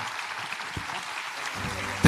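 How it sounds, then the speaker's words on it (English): Audience applause for the speakers at an international cultural summit at a palace museum, continuous clapping for about two seconds, with a voice starting at the end. "For all speakers, please give a big applause."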